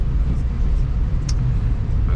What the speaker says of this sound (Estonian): enamus autosi sõidavad mööda ja arvatavasti linna poole tööle